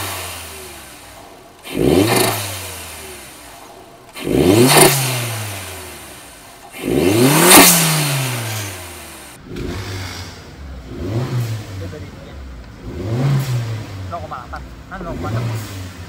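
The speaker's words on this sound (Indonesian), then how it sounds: "Kira-kira aja buat dengerin dia punya turbo seperti apa." Suzuki Jimny JC74 five-door with an added turbo and standard exhaust, revved repeatedly: loud, close rising blips with short falls back toward idle, the later revs a little softer and more even.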